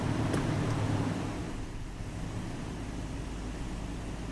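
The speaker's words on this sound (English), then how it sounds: "nice, she's idling a lot better." A truck engine idling after an ignition coil and spark plug swap, a steady low rumble that holds even throughout with no talking.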